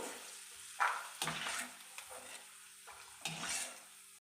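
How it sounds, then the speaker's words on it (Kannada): Peanuts frying in a pan, quiet scattered sizzling broken by a few sharp stirring scrapes and clinks spaced across the few seconds, close and otherwise without talk. "ನೋಡಿ, ಕಡಲೆ ಬೀಜ ಫ್ರೈ ಆಯಿತು."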